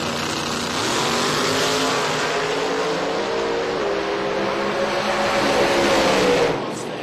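A 1991 Mustang drag racing down the strip at a Stratford, Connecticut event sends up a loud, steady engine roar that holds for about six seconds before dropping away, with crowd-like noise and possible faint talk mixed in.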